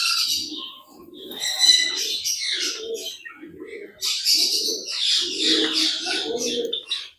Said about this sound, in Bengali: বাচ্চা একটা ঘুঘুর